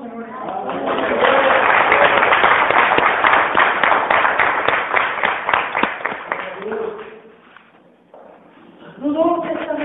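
A church congregation bursts into applause, a broad wash of many hands clapping that swells, then thins and fades to near silence before a voice returns at the end.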